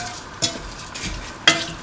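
Vermicelli pasta tipped into a pan of cooked chicken makes two sharp, close clattering scrapes over a faint, steady sizzle.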